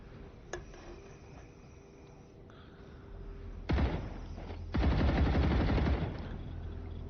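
A rifle fires rapidly in the StarRupture game. A single faint shot comes first, then two loud sustained bursts of automatic fire, the second longer and heavier, over steady background ambience.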